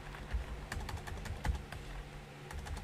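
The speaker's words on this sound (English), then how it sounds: "typing with one missing finger" Typing on a computer keyboard, quick, uneven key clicks with a few louder thumps, close and moderately quiet, with no voices.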